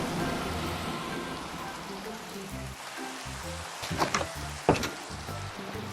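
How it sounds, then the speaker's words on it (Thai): Steady heavy rain falls in the Minecraft video game, a constant dense hiss with a few louder bursts near the end and faint murmuring underneath. "ฝนตกหนักมาก"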